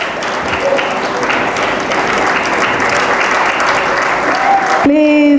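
Applause from an audience at a graduation ceremony as former Liberian president Ellen Johnson Sirleaf is welcomed, a steady wash of many hands clapping with loud, continuous energy, ending abruptly into a brief tonal sound at the close.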